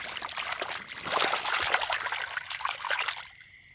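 Water trickles and splashes steadily while field crabs caught in rice paddies are washed, close up and fairly loud, swelling in the middle before tapering off near the end.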